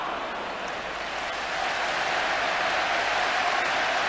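A stadium crowd applauds at a 1988-89 UEFA Cup football match involving VfB and Dynamo Dresden, a steady dense wash of clapping that swells slightly and holds on without talk.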